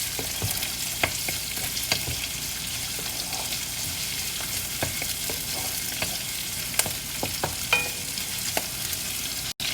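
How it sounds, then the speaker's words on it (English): Chopped onions sautéing in a pan for uppuma, with a steady close sizzle broken by sharp clicks and scrapes of stirring, and no voices. "And then we're going to saute these onions till it turns a little bit translucent"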